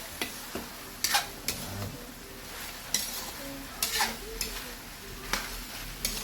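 A spoon stirs and scrapes food in a sizzling pan after Norfolk seasoning is added, giving irregular knocks and clinks over a low, quiet frying hiss, with no talking.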